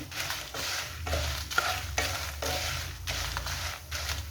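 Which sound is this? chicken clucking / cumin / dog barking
cumin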